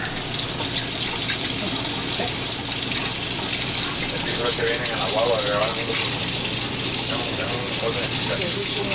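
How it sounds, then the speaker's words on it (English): Hot water runs steadily from a tap inside a Newmar Dutch Star motorhome, a loud continuous gushing rush that holds for several seconds without a break. "So let's test the hot water."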